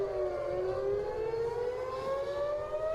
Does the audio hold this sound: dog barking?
no